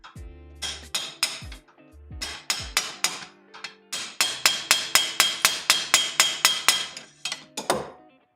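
A hammer strikes a metal part in a home garage, a series of sharp metallic clinks and rings. The strikes come in short bursts, then a fast, even run of about a dozen close, loud blows that each ring out briefly.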